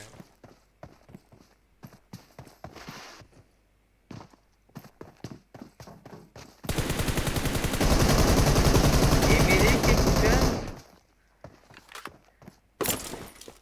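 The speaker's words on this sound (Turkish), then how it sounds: "Akkurt o ne biçim mermi atıştır ama ya" Automatic weapon fire in the mobile battle-royale game PUBG Mobile: scattered clicks and taps lead into one long, loud sustained burst of rapid shots lasting several seconds, then a brief final crack.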